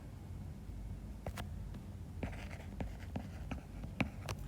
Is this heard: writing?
yes